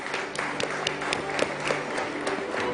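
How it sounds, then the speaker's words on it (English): An audience at a financial summit claps for a panel of speakers, dense continuous applause with distinct individual claps standing out, fairly close and sustained throughout. "I request the audience to give them a huge round of applause"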